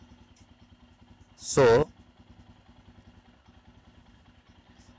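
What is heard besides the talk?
Royal Enfield Himalayan motorcycle engine idling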